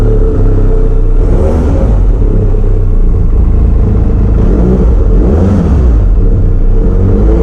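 Benelli TRK 502X or Leoncino parallel-twin motorcycle engine, a loud close rumbling idle with swelling revs, throaty and continuous throughout.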